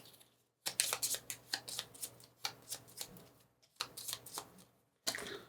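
Playing cards for a solo board game are shuffled in several quick riffling bursts separated by short pauses, close and crisp, with no talking.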